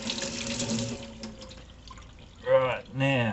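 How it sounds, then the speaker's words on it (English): Running tap water splashes briefly into a kitchen sink as hands are washed, a short gush under and between bits of talk. "now just wash my hands"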